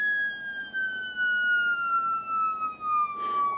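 Theremin drone while a tool turns the pitch transformer slug: a single pure, loud tone slowly gliding downward in pitch, with a brief soft rustle near the end.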